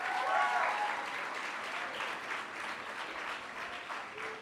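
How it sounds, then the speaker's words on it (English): Steady audience applause at a school award ceremony for subject prize winners, dense and sustained, with a faint voice briefly audible near the start. "Let's give them another round of applause."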